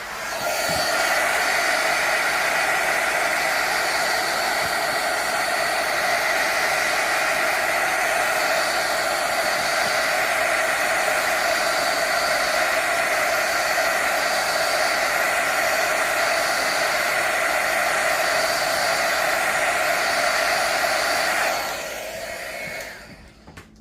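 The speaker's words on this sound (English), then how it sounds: "Okay, I'm going to heat gun this." A heat gun blows over resin poured into a frangipani coaster mold, giving a loud, steady airy roar that runs unbroken for about twenty seconds before cutting off near the end.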